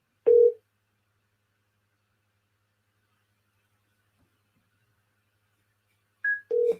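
A phone gives short electronic tones after the call button is pressed: one brief beep, then several seconds of silence, then two more quick tones close together near the end.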